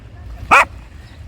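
A single sharp, loud dog bark sounds up close at a seaside pier in Arcadia, Odesa, set against quiet background noise, with the start of another bark cut off at the end.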